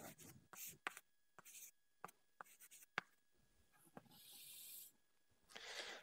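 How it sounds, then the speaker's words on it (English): Chalk or marker writing on a board in a physics lecture hall, quiet scratchy strokes and taps in an irregular rhythm, faint and close, with longer rubbing strokes toward the end. "I'm going to write"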